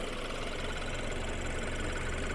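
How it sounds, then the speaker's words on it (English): An M-Sport BMW 328i xDrive wagon idles quietly and smoothly under the open hood, a steady close hum with the faint tick of direct injection. "It's actually a very quiet idling vehicle. You just hear the direct injection ticking away."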